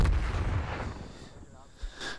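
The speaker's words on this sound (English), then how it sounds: "The blowing up and all the gunfire will wake you up, Cosmo." Explosions and bursts of gunfire from a Team Deathmatch round in an online shooter game, loud rumbling blasts packed together at the start, easing off, then another sharp boom near the end.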